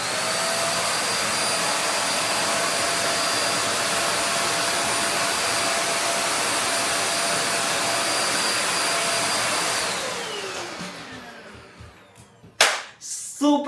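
A household vacuum cleaner runs loud and close with a steady whooshing drone for about ten seconds, then winds down and cuts off, followed by a few sharp clicks and knocks.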